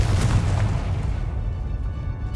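Bombarda explosion spell detonating in Hogwarts Legacy, a heavy low boom that starts loud and rumbles away, with thinner crackling bursts trailing behind.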